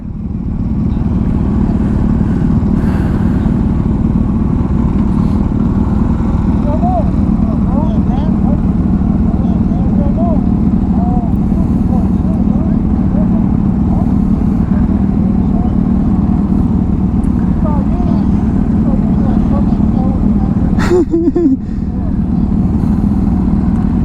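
A KTM 500 motorcycle engine drones steadily and loudly throughout, a constant low rumble with voices talking over it.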